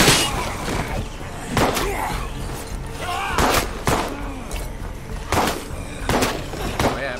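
Zombie-survival video game State of Decay 2 fires loud bursts of gunfire, with several sharp shot clusters spaced a second or so apart over constant background game noise.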